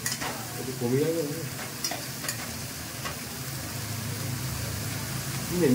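A large batch of onions sizzles in a pan at home, a steady close frying hiss with faint stirring clicks, while a voice speaks briefly at the start and end.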